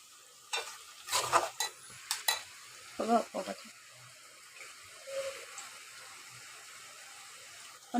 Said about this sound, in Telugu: కారం వేసుకొని కొద్దిసేపు కలుపుకోవాలి.